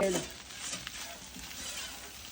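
Eggs frying in a spoonful of oil in a frying pan, a steady soft sizzle with faint stirring scrapes, fairly close, after a brief voice at the very start.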